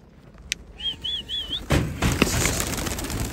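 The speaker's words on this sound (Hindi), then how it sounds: "दोस्तों कितने खूबसूरत है कबूतर" A pigeon coos in a few short wavering notes at a pigeon-flying match, followed by a burst of wing flapping and rustling close by.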